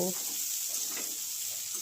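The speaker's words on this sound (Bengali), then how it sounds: "আমি ভেজে নিচ্ছি। ফুলকপি, গাজর এগুলো কেটে ধুয়ে রান্নাটা স্টার্ট করে দিয়েছি।" Cut cauliflower and carrot fry in oil for a home dinner, making a constant bright hiss with soft stirring rustles, close and even throughout.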